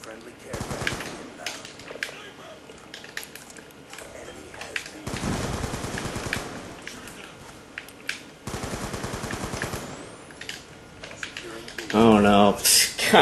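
Rapid gunfire from the video game Black Ops 2 crackles in dense, repeated bursts, loud and close, with game sounds and player chatter mixed underneath.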